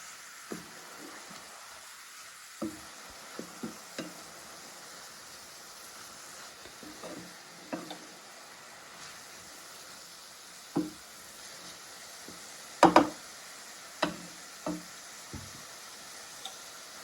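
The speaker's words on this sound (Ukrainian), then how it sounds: "Я маю шампіньони на пательні до тих пір, поки випарується вся оця волога" Button mushrooms sizzle softly in oil in a frying pan, with scattered clicks and knocks of a utensil stirring, one louder clatter partway through.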